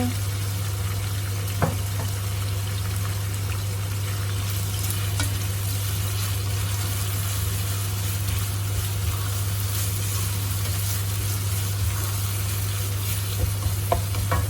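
Wide rice noodles frying and being stirred in a pan for Thai stir-fried noodles, a steady sizzle with occasional scrapes and clinks from the utensil, close and continuous throughout, with a constant low electrical hum underneath and no talking.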